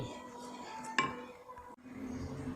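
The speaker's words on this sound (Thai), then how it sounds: "ปิดฝาเลย" A lid closes on a pot of Thai grilled-fish curry, making one sharp metallic clink near the start of a quiet stretch of soft kitchen clatter.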